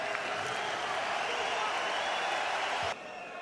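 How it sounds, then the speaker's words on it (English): Dense crowd roar and cheering fill a boxing arena during a WBA 160lb title fight between Felix Sturm and Martin Murray, sustained and loud for about three seconds before dropping off abruptly. "Crowd enjoying it."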